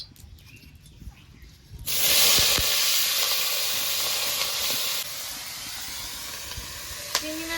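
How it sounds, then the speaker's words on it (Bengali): Prawns go into hot oil with a sudden loud hissing sizzle that stays strong and steady, easing slightly after a few seconds, with a faint tap near the end. "তেলটা গরম হয়ে গেছে এবার চিংড়ি মাছগুলো ভেজে নেবো"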